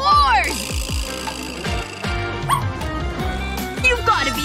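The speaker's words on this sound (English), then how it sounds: "Get that dog out of here!" A dog barks and yips in repeated bursts amid a busy, loud scene at an indoor party, with voices talking over it and clattering noise around.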